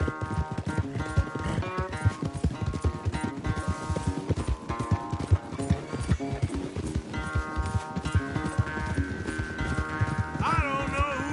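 Horse galloping in the video game Red Dead Redemption 2 during a race, with rapid continuous hoofbeats over game music and ambience, and a brief voice near the end.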